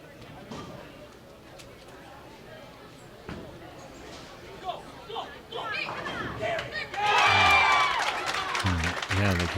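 Crowd cheering and applause break out at a junior under-12 bowling match-play round, rising loudly near the end over announcer talk and lane noise.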